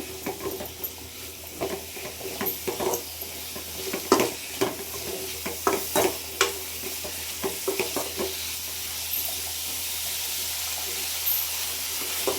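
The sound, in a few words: garlic frying in a pan for egg curry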